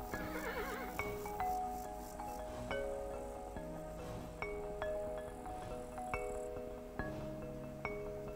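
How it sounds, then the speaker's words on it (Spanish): A horse neighs in a game, sounding as a series of repeated whinnying calls with bright tonal onsets spaced about a second apart, clear and close, with no talking. "Caballo."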